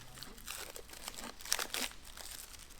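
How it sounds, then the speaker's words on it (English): Plastic wrapping is pulled off a Toyota Hilux N80 pre-fuel filter, giving close, quiet crinkling and crackling in short uneven bursts. "So we will go ahead and just take the plastic off this"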